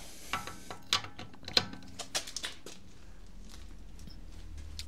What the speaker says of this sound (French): Donc là, on a décollé les écrous.